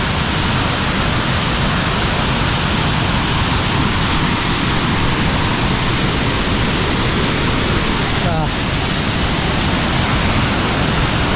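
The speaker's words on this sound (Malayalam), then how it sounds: "ഇത്രയും വീതിയിലുള്ളൊരു വെള്ളച്ചാട്ടം." A broad waterfall in Kerala, swollen after recent rain, roars as a loud, unbroken wash of white noise close by, with no other sounds standing out.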